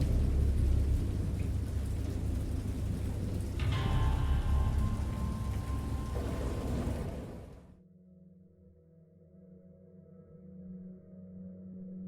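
Heavy rain drums steadily on a surface during a storm, with a thunder rumble rolling in near the middle, then the downpour cuts off and a low residual drone remains.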